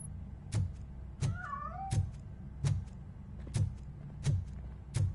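Cat meowing in the video game Robocop Rogue City, a faint high cry amid regular heavy footsteps thudding roughly every three-quarters of a second over a low hum.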